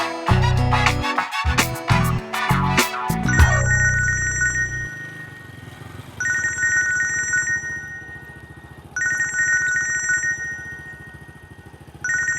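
A mobile phone left behind rings with a bright repeating electronic ringtone, loud and close, after an opening burst of music, the tone sounding in regular pulses with short pauses between.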